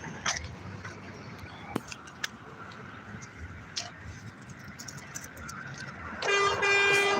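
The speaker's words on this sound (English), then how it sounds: "What the fuck are you guys honking at?" A car horn blares in a sustained, loud honk at the very end, rising out of a steady street background with a few sharp clicks and taps earlier on.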